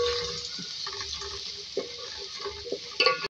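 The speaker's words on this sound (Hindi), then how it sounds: "यहाँ पे ऑयल लिया है, इसमें ऐड करेंगे प्याज एक मीडियम साइज़ का। इसको पहले फ्राई करेंगे।" A medium-sized onion sizzles in hot oil in a pan, a steady hiss close by with occasional scrapes and stirring clatter, and no talking.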